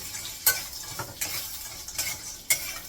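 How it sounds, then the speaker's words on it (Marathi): Moong dal sandge roasting in a little oil in a pan over low heat, a soft sizzle under four sharp spatula scrapes and stirs at roughly half-second to one-second gaps, close up. "एकदम थोडंसं तेल घातलंय, त्यामध्ये जरा भाजून घ्यायचं."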